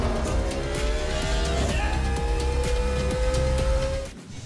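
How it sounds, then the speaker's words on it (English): A supercar convertible's exhaust rising through the gears, a loud growl climbing in pitch with repeated upshifts before easing off at the end. "The exhaust system on this car begins with a high-pitched growl and builds to an ear-piercing squeal"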